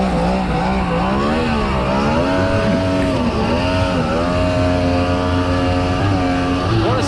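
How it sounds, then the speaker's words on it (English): An aluminum jet boat powered by a jetski engine screams past at speed, a loud, continuous high-revving whine that rises and falls in pitch over rushing water. "What a screaming little boat, man."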